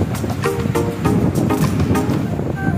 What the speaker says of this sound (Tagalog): Malakas ng alon.